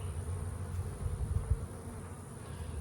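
Honey bees buzz steadily at the entrance of a hive, a close, continuous droning hum with slight swells and no voices.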